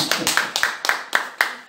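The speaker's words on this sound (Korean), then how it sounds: "박수 한번 쳐주세요." A church congregation claps in a steady rhythm of sharp beats about four per second, a few hands close by, with a voice faintly underneath.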